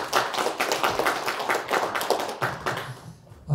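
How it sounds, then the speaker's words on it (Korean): Audience at a Korean history conference on Danjae Shin Chae-ho claps to welcome a professor as speaker: a steady, dense patter of many hands, fairly close, fading slightly near the end. "이성훈 교수님 한번 박수로 맞이하겠습니다."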